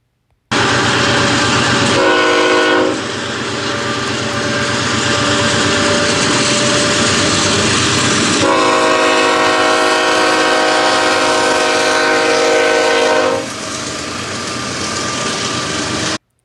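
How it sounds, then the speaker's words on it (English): A train rumbles past close by a level crossing with cantilever signals while its horn blasts in long, loud sustained notes, with steady rail noise in between. "let's see this crossing where the train is going to be passing now"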